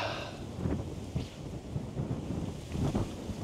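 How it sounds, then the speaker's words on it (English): Wind blowing hard outdoors at Trentham gusts steadily across the microphone as a low, rumbling buffet, fairly quiet and continuous, with slight surges in strength. "But the wind's blowing a bit hard."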